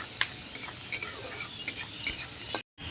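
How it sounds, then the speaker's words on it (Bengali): Chopped carrots are stirred in a pan, with soft close scraping and light clicking over a faint sizzle before a brief cutoff at the end. "গাজরটাকে একটু নাড়াচাড়া করে নেব"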